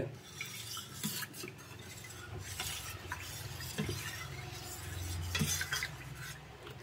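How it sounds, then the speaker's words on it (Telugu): Carrot halwa is stirred in a pan with a spoon, producing a steady close scraping and thick squelching churn along with light metal scrapes against the pan, with no talking. "మొత్తం కలుపుకోండి శుభ్రంగా, మొత్తం కలిసేటట్టు, ఉండలు గట్ట లేకుండా చూసుకోండి."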